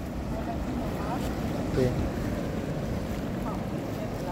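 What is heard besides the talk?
motorboat passing on the water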